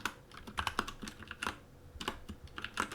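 Fast, irregular clacking keystrokes on a new compact 60% computer keyboard, close and clear, arriving in short bursts with brief pauses and no talking.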